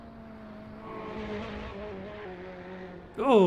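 Ferrari race car engine in a simGT Racing game at Road America, a steady harmonic engine drone that holds and shifts pitch, ending with a sharp rising rev near the close.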